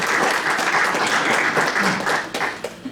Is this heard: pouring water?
no